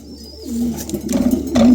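Pigeons coo close by, low throaty rolling calls repeating in a couple of bursts with a faint chirp early on.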